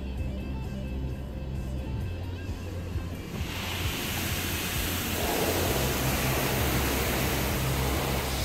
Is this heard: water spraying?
yes